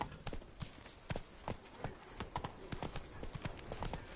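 Roach the horse gallops in The Witcher 3, a quick, uneven run of hoofbeats thudding at close range over a quiet background.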